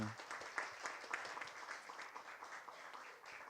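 A small audience at a theology study seminar claps steadily for a few seconds, a soft even patter of applause that fades slightly toward the end.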